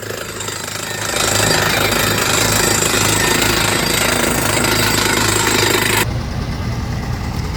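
A tractor-mounted borewell drilling rig works on a hillside, giving a loud, steady pounding and rumbling engine drone that starts about a second in and runs almost to the end, then cuts to a quieter hum.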